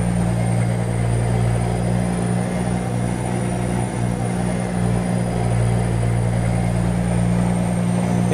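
A modded truck engine in American Truck Simulator, hauling a telehandler, sets up a loud, steady droning rumble with a constant low hum that holds for the whole stretch without pause.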